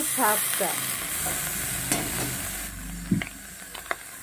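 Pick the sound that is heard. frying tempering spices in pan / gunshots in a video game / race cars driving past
frying tempering spices in pan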